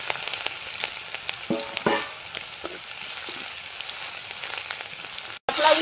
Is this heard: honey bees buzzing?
no